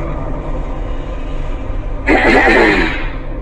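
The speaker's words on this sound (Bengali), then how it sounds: "সেদিন রাতে এক্সপ্রেস ট্রেন ধরে কাজ থেকে ফিরছিলাম, ট্রেনের কামরা প্রায় ফাঁকা ছিল।" An express train runs with a continuous low rumble of wheels and carriage, then a louder, brighter rush of rattling and clatter surges in about two seconds in and persists to the end.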